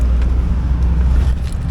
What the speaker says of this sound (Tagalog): Paandarin natin yung sasakyan.